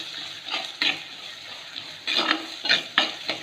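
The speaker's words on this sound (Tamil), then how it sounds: "அந்த வெங்காயமும் நல்லா ப்ரௌனாக வரட்டும். ஒரு 5 செகண்டு நல்லா வதக்கி விடும்" Onions and white snake gourd sautéing in a clay pot, a steady sizzle broken by repeated scraping stirs of a spoon, close and fairly clear.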